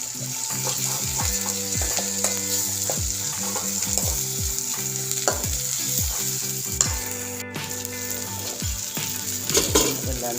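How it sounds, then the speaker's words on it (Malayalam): Tomatoes with crushed black pepper and dried chili being stirred in a pan for pulirasam: a constant sizzle under repeated scraping and tapping spoon strokes at an uneven rhythm, near and fairly quiet, with no speech. "അതിനകത്തോട്ട് കുരുമുളക്, വറ്റൽമുളക് ചതച്ചത് ഇട്ടു. നന്നായിട്ട് ഇളക്കി കൊടുക്കുക."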